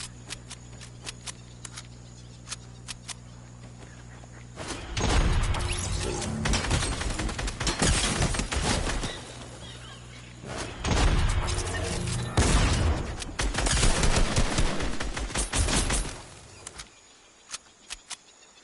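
Rapid gunfire bursts from the video game Fortnite crackle in loud dense volleys with short pauses between them, preceded by quieter scattered clicks and sparse taps.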